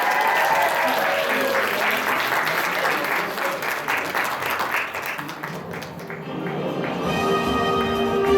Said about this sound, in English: Just give him a round of applause because he made that exciting.